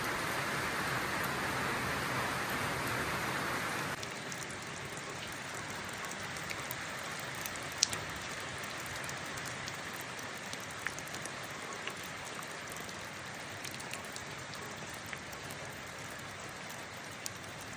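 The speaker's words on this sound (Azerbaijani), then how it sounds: "mən hər dəfə Ağcabədiyə gələndə mütləq yağış yağır" Steady rain falls on surfaces in Ağcabədi, a dense, even hiss heard throughout with occasional sharper drips and taps.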